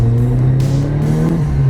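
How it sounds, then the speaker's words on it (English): Ford Escort RS1600i fitted with a turbocharged RS engine revs hard, a loud close engine note holding steady pitch with brief rises, no talking. "Let's see what this thing is like with a turbocharged RS engine in it"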